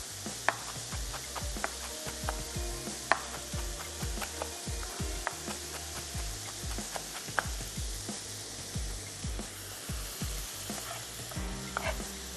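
Cabbage chopped with a knife on a board, a quick series of sharp, close thuds in uneven bursts over a steady low background.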